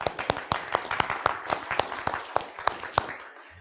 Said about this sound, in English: So I would ask all of you to give yourselves a round of applause.